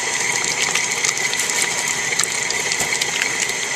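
Electric mixer creaming softened fat and sugar for a pound cake, a steady close whirring motor with rapid gear-like rattling throughout, no voices.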